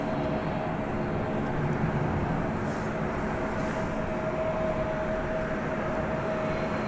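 An Ameriflight Beechcraft 1900C turboprop engine runs up at night at DFW Airport, a steady, far-off broadband roar with a faint whine that stays even throughout, no voices.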